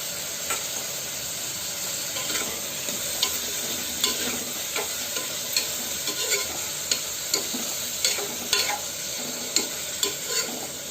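Chopped onions and green chillies fry in a hot pan with a constant sizzle, punctuated by rhythmic scraping strokes of a spatula stirring them every second or so, close and fairly loud.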